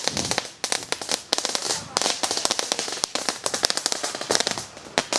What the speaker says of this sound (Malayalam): നമ്മുടെ ഇത് കത്തിക്കുന്നതോടുകൂടി നമ്മുടെ വെടിക്കെട്ട് തീരുന്നതായിരിക്കും